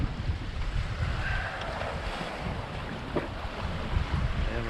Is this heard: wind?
yes